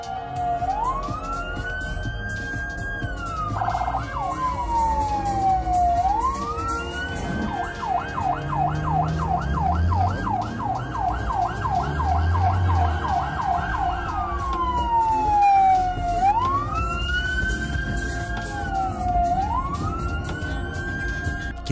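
An ambulance siren wails through traffic in China, its tone sweeping up and down repeatedly and switching midway to a rapid yelping pattern before returning to slow wails, loud and steady over a constant rumble of road noise.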